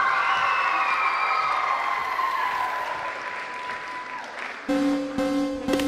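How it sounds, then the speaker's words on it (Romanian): Applause from an audience at a children's dance awards show, a dense wash of clapping that fades slightly before an abrupt cut to a different, tonal sound. "Să-i primim cu aplauze!"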